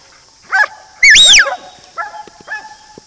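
An 18-month-old huntaway dog barks and yelps in a short burst of about four loud calls, the longest and loudest in the middle, each rising and falling with a whining edge, heard up close outdoors.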